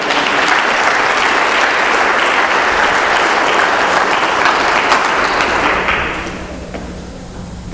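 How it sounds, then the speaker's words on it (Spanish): Church congregation at a Sunday service breaks into sustained applause, thick and loud clapping from many people that holds steady before thinning out and fading toward the end, capped by a single close thump. "Dale un aplauso al Rey."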